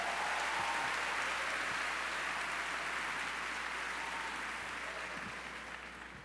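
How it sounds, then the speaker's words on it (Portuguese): A church congregation at a Saturday-morning praise congress applauds the visiting missionary pastor, a dense, steady roar of clapping that holds strong throughout and fades slightly at the end. "vamos receber a palavra do Senhor com o pastor missionário Neto. Vamos aplaudi-lo nessa hora."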